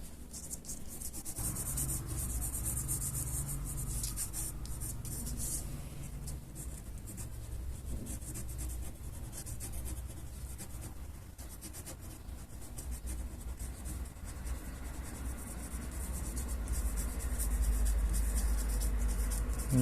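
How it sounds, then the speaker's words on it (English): Pencil shading on paper while a paper Call of Duty Ghost mask is made: continuous close scratchy rubbing strokes that go on for the whole stretch, steady and fairly loud, with no voices. "a little bit of 3D aesthetic using my pencil"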